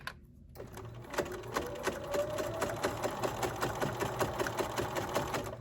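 A sewing machine runs steadily, topstitching along the side of a fabric piece near a zipper, with a rapid, even needle clatter that continues for several seconds at close range and no talking.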